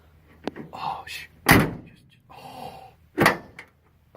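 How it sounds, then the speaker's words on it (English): A door on a 1977 Ford F-150 pickup truck is shut twice, each a loud close-range slam with a sharp thunk, while a person murmurs and talks quietly between the closings. "So here's the door of the truck that works."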